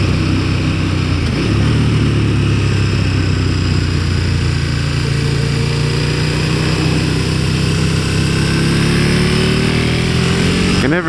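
Motorcycle engine droning steadily and loudly as the bike rides through a marked 15 mph corner on a road, a continuous close engine and wind roar with gradual pitch shifts and no talking.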